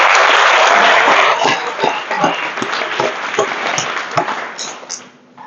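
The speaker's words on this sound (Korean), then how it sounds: "여러분 다시 한번 뜨거운 박수로 맞아주시길 부탁드리겠습니다" Audience applause at an indoor conference welcoming a speaker, loud dense clapping that swells at the start and gradually thins and fades out near the end.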